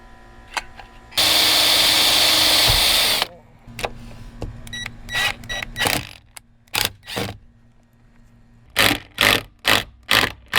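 A power drill bores new holes in a metal rail while fitting an elevator bed mount: one long steady whirring burst, then a string of shorter, sharper drill pulses and bursts, close and loud.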